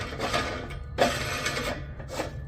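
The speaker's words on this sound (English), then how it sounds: "We are going to simply clamp this down" Metal clamp being tightened down on an RV propane tank mount, holding 30lb tanks in place; a few close, uneven mechanical clicks and scrapes from the bracket, with no talking.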